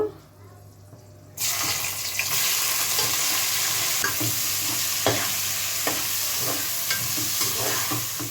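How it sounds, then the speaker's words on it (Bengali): Sliced onions hitting hot oil in a pan with two dried red chillies, bursting into a loud, steady sizzle after a quieter opening, with scraping stirs ticking through it. "আগে আমি 2টো শুকনো লঙ্কা এর মধ্যে দিয়ে দিচ্ছি। এবার আমি পেঁয়াজগুলো দিয়ে দিব।"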